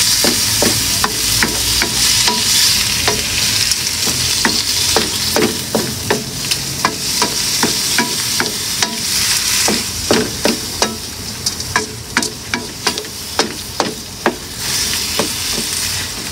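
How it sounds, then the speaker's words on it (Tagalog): Shrimp being stirred in a cooking pot for shrimp sinigang, loud close sizzling under a fast series of metal spatula scrapes and taps that grow more spaced and distinct toward the end. "ilalagay na natin yung ating hipon. So ngayon, hahaluin na naman natin."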